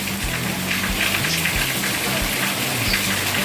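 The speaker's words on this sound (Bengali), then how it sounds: "ঝড়ো হাওয়া ছাড়াই নিঝুম বৃষ্টি হচ্ছে" Steady rain falls on a village with no wind or thunder. A dense, even hiss of drops continues without letting up, with a faint low hum underneath.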